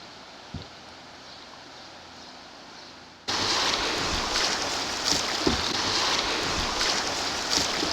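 Kayak dropping over a ledge into rapids on Antietam Creek, a sudden loud rush of churning whitewater that starts partway through and stays steady, with a softer flowing stream before it.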